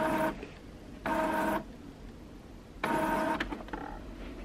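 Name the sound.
printer printing a large A4 tiled sewing pattern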